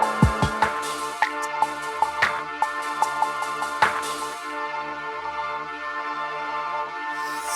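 A hip hop beat sequence played on an MPC: punchy drum hits and snare-like cracks repeat over sustained tonal samples, moderately loud at first, then thinning to a fading tone.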